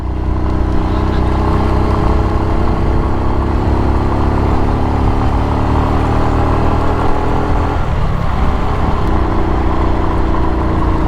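A 20-year-old Honda XRM motorcycle engine drones continuously while riding uphill toward Eden, Toril, Davao City, a loud, steady mid-pitched hum with wind rush and no speech.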